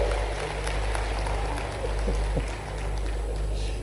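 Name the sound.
audience clapping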